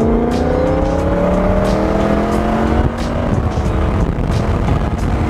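A loud BMW M2 with a tuned N55 engine drives close by, its exhaust note roaring continuously with rising and falling pitch over road noise, no talk over it.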